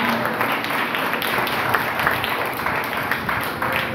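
A church congregation claps during a Sunday service, a dense, steady burst of applause filling the hall for several seconds.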